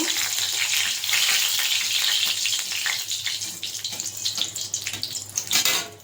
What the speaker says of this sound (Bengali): এটা শুকনো লঙ্কা ভেজে নেব